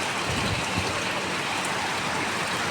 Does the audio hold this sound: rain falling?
yes